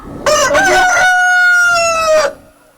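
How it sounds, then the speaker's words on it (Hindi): A single loud, close rooster crow, a long sustained cock-a-doodle-doo that holds steady and then cuts off sharply, heard alone with no talking. "बांग देने वाले मुर्गे"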